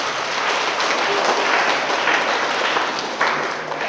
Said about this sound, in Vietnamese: cho một tràng vỗ tay cho những bạn giơ tay đi